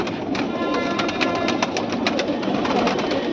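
Pigeons cooing and fluttering in a close, steady background din, with soft rustling and occasional sharp flicks of movement throughout.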